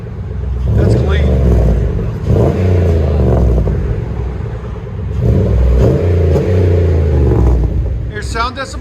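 A 2008 Chevy Impala SS V8 with a muffler delete revs loudly up close in repeated deep surges, with people talking over the engine.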